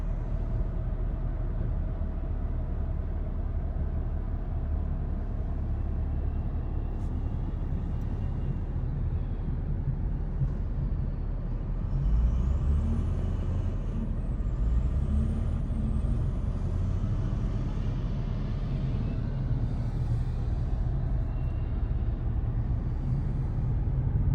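A wheel loader plows snow in a mall parking lot in Hagerstown, Maryland, its heavy diesel engine rumbling low and steady throughout, with a faint higher whine partway through.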